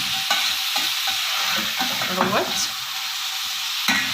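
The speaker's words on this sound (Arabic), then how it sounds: "نشوح كده الجزر مع بعضه" Carrots sautéing in a pan with black pepper, cumin and coriander, sizzling steadily while a spoon stirs and scrapes in irregular bursts, close up, with a brief spoken word.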